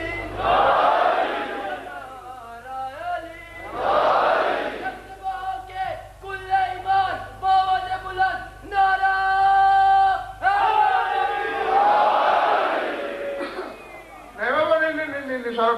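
A Muharram majlis congregation shouting the religious slogan Nara-e-Ali in loud, swelling bursts, repeated several times between stretches of a sustained, chanted solo voice.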